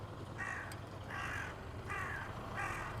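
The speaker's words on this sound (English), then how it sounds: "That's the sound of a Japanese crow." A Japanese crow caws four times in Japan, evenly spaced, hoarse, and fairly distant over faint background hum.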